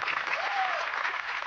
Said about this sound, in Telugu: ఇంత అద్భుతమైన పాటని కంపోజ్ చేసిన ఆర్పి పట్నాయక్ గారికి ముందుగా గట్టిగా చప్పట్లు.